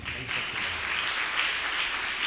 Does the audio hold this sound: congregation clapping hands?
yes